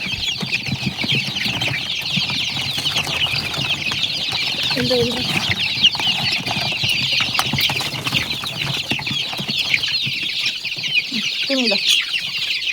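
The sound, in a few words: native chicks clucking while fighting over food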